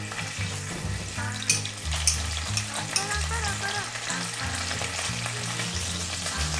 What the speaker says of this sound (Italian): nell'olio bollente, sempre facendo attenzione, versiamo i filetti di acciuga in olio d'oliva